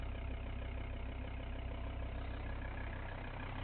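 Idling engine of a 2014 Volvo V60, a steady low rumble held evenly throughout with no talk over it.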